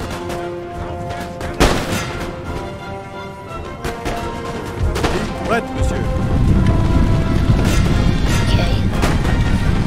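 Musket volleys and artillery fire in Total War: Napoleon crack and boom in bursts, swelling into a dense, continuous battle din toward the end, with a brief word spoken.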